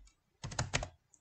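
A short burst of several quick computer keyboard keystrokes, close and fairly quiet, clustered within about half a second, with no talk over it.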